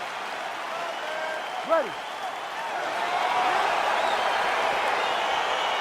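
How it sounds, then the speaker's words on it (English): A virtual arena crowd in the EA Sports UFC 4 fighting game cheers as a bout gets underway, a broad continuous roar that swells partway through, with a voice briefly speaking over it. "crowd getting excited as this fight gets underway"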